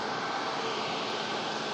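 A steady, fairly faint jet engine drone from an airliner arriving from Alicante, even and unbroken throughout.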